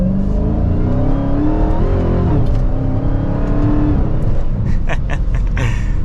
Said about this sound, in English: The supercharger whine is something you just don't get in other cars.